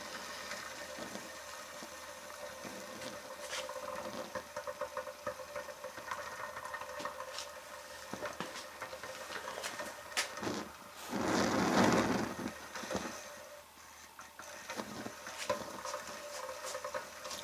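A homemade penny stove burning after priming gives a faint, steady hissing and fizzing roar, with a brief louder flare near the end.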